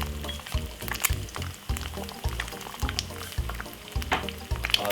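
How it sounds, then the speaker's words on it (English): An egg fries in a pan on a stove turned very low, seasoned with coarse pepper, giving a steady close sizzle with irregular crackles and pops throughout. "Make it fry for roughly about 2 seconds on both sides."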